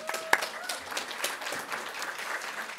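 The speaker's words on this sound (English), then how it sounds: "Yeah, clap for Angela" Modest applause from an audience at a talk on homelessness and real estate speculation, scattered claps fairly close and quiet, fading out after a brief sharper burst near the start.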